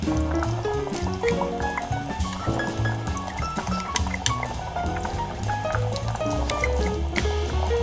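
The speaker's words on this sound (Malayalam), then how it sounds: "ഇതിലോട്ട് അരപ്പ് നമുക്ക് ഒഴിച്ചു കൊടുക്കാം" Ground spice paste poured into a creamy chicken stew, a close wet pouring and squishing sound with liquid dribbles and a few utensil clinks, with no talk.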